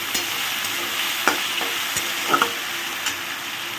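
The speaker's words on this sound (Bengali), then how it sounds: "এটা দিয়ে একটু আলুটাকে ভাজা ভাজা করে নিই" Boiled potatoes seasoned with salt and turmeric fry in a pan, a close sizzle broken by several sharp spatula scrapes and knocks as they are stirred.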